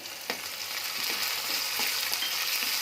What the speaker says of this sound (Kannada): ಇದು ಸ್ವಲ್ಪ ಹಸಿ ವಾಸನೆ ಹೋಗೋವರೆಗೂ ಫ್ರೈ ಮಾಡ್ಕೋಬೇಕು